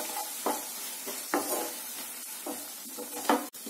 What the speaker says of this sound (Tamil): இப்ப இந்த மசாலா பொருளை எல்லாம் சேர்த்துட்டு திரும்பவும் 1/2 நிமிஷம் போல இதனுடைய பச்சை வாசனை போகிற அளவுக்கு வதக்கிடலாம்